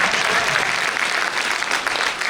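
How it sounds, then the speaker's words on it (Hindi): Loud, dense audience applause at a poetry recital, steady many-handed clapping filling the room without a break. "तालियां बजाओ तो मस्त बजाओ"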